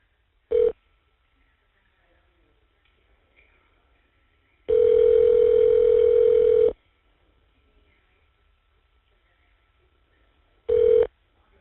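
Telephone tones on an Evercom jail call line while a number is dialed: a short tone burst, a steady tone held about two seconds, then another short burst, separated by near silence.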